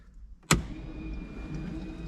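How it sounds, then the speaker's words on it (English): A sharp click is followed by a steady electric whine and low mechanical hum as electric water pumps run nearby in a Ford Escort Cosworth with the ignition on. "that is the water pumps."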